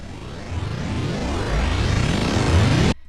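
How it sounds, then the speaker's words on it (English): A reversed, spliced sound processed with a crystallizer, climbing as a dense, shimmering game-show-style riser with layered rising sweeps, swelling steadily louder for about three seconds before cutting off abruptly. "and then added the crystallizer, which is with the game show riser effect"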